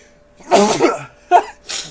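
Two quick sneezes, the first fuller and the second short and sharp, followed by the start of a third burst, close to the microphone with no speech.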